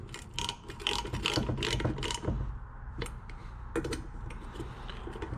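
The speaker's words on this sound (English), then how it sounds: "Tightening these in a crisscross pattern." A ratchet wrench clicks in quick bursts as metric bolts are snugged down in a crisscross pattern on a biodiesel centrifuge during assembly, a close, busy mechanical ticking with short pauses between strokes.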